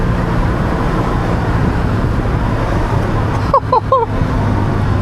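A BMW E46 drives on the road after an angle kit install, its engine and road noise forming a loud, steady rumble throughout, with a brief squeaky chirp near the end.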